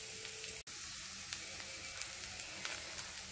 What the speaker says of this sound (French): cuire mes oignons tranquillement jusqu'à ce qu'ils prennent une couleur